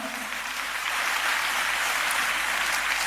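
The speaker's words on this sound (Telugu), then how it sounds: "ఒక్కసారి చప్పట్లు కొడతారా" An audience claps together, a dense, steady burst of applause that holds at an even level for a few seconds.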